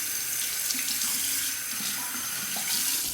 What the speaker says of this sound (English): A quick rinse.